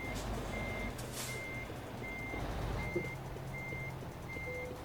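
A truck reverses and parks in the Euro Truck Simulator 2 video game. High reversing beeps repeat at an even pace of about one every three-quarters of a second over a constant low engine rumble.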